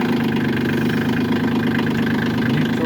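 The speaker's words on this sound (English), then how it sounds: "Crank the tractor" A Kioti CK20S compact tractor engine runs at a steady idle, a loud, continuous mid-range diesel rumble with a faint knocking texture and no break through the whole stretch.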